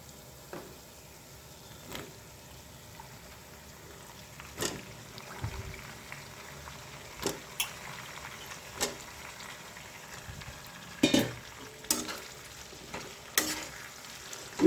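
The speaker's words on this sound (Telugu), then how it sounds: "ఈ వంకాయ ముక్కలు బాగా వేగాలండి చక్కగా." Brinjal pieces fry in a pan with onions and vadiyalu, a soft continuous sizzle broken by repeated scraping stirs of a spatula that grow louder toward the end.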